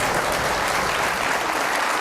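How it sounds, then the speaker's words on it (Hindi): A studio audience at a festive Eid special television show claps in dense, continuous applause that stays loud and even from start to finish. "जनाब बहुत सारी तालियां हनी अलबेला के लिए।"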